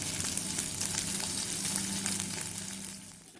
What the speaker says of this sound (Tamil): வெங்காயம் ஆட் பண்ணிக்கலாம், வதக்கிக்கலாம்.